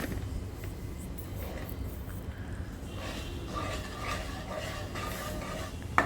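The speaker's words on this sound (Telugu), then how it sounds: "మొత్తం అన్నీ వేసి అలా తిప్పుతూ ఉండడమే, అలా కలుపుతూ ఉండడమే దగ్గరకు వచ్చేంత వరకు" Sweet mixture of coconut and other ingredients being stirred in a pan, with a faint continuous scraping and soft sizzle close by and a sharper clink near the end.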